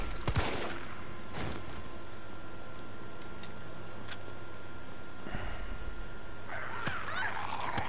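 Gunshots from the player's weapon in the Resident Evil 3 Remake demo on PS4: several sharp, loud shots spaced irregularly, with a brief rattling burst near the end, over a steady game background.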